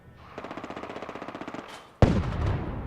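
Rapid machine gun fire rattles in a steady burst of evenly spaced shots during a Fallout 4 firefight between Rust Devils and Gunners in the Sim Settlements 2 mod, then a louder, sharper volley breaks in and keeps going.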